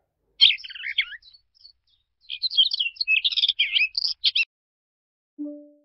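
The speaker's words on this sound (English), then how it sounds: "Bluebird." Bluebird song sounds alone and close, a run of quick warbling chirps and twitters in two phrases, followed by a brief soft tone.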